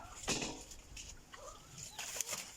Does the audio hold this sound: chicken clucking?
yes